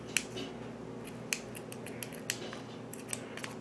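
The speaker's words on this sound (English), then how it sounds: "So now we can take the scissors, cut the extra string." Scissors snip kitchen string on a prime rib roast several times in quick, irregular clicks, close and fairly quiet, with short pauses between cuts.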